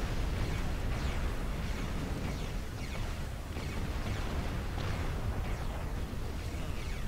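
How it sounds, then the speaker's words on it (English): Space battle explosions from the Star Trek Online video game come as a dense run of overlapping booms and bursts, rumbling low and steady throughout with no speech. "All those nice explosions."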